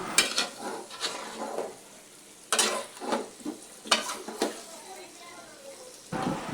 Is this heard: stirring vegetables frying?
yes